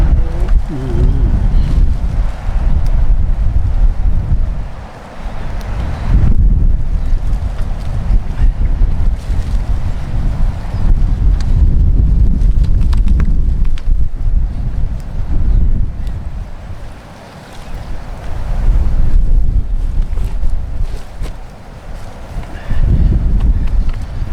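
Strong wind blows outdoors across open ground by a molehill, a loud, constant rumbling gust and microphone buffeting that dips briefly a few times, with no voices.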